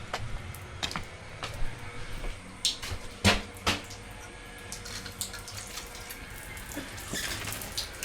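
A camp shower runs, water hissing steadily, with scattered splashes and drips and a few knocks, heard close by without any talking.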